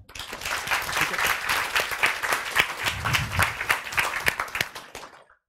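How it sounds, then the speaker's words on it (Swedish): Warm applause from a seminar audience welcoming speaker Troed Troedsson, a steady dense clatter of many hands that swells and holds for about five seconds before fading out. "Mina damer och herrar, jag ber att ni ger en riktigt varm applåd till Troed Troedsson"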